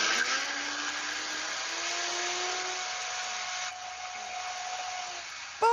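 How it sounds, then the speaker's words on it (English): A blender whirs loudly and steadily on high speed for about five seconds, mixing hollandaise sauce ingredients, its motor pitch shifting slightly partway through before cutting off abruptly at the end. "I'm just going to put my top on my blender, and I'm going to blend this for 5 seconds on a very high speed"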